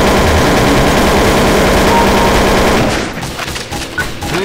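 Dense, loud rapid-fire gunfire from the video game Counter-Strike: Source, a sustained burst for about three seconds before thinning into scattered echoing shots and tails.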